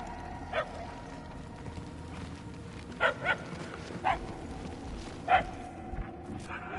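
A dog barks in the Guardians of the Galaxy video game, five or six short, sharp barks spaced irregularly at a middle distance over a low ambient hum.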